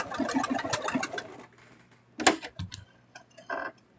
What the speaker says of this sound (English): I'm just going to sew this wedge real quick